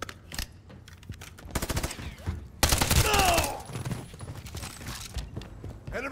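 Striker gunfire from the Call of Duty Modern Warfare 3 campaign comes in rapid bursts of close, loud shots with game effects and mechanical clatter, over a busy mix.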